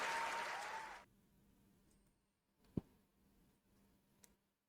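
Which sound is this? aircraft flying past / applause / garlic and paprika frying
applause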